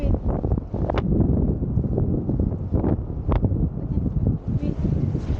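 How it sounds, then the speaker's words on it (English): Strong wind on Vung Tau beach buffets the microphone in a loud, continuous roar with gusty swells and a few sharp rustles throughout. "They cannot hear me, maybe too much wind."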